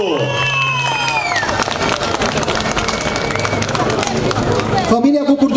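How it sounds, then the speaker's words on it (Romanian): A large crowd at a Romanian winter traditions and customs show breaks into loud, sustained applause for a couple, dense clapping mixed with cheering and a few high whistles, ending abruptly. "un rând de aplauze furtunoase pentru fiecare cuplu!"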